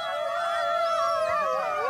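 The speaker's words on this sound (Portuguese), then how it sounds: "O uivar fortalece os laços, mantém a coesão da alcateia e divulga a posse de um território." An Iberian wolf howls in the wild in Portugal, a loud sustained wavering call sliding in pitch, with overlapping howls blending into a close chorus and no talk.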